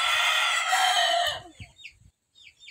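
Shamo breeder chickens in a small backyard, with a rooster's loud, sustained crow filling the first second and a half, followed by softer scattered clucks and chirps.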